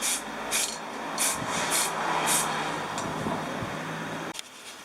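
Aerosol spray paint hisses onto motorcycle parts in several short bursts followed by longer sustained sprays, close and fairly soft over a low background hum, ending abruptly.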